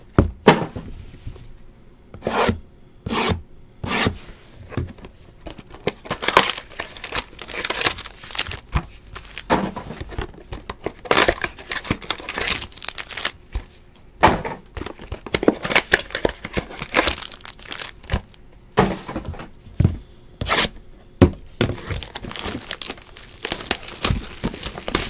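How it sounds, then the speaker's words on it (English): Football trading card boxes being torn open and foil packs pulled out, with close, loud bursts of crinkling and ripping wrapper noise in irregular rapid flurries, no talking. "I like to open up all the boxes, take all the packs out"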